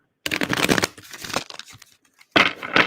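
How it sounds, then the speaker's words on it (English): A deck of oracle cards shuffled by hand gives two bursts of papery riffling and crinkling, close and fairly loud, separated by a short quiet gap, with no voices. "as I'm shuffling these cards"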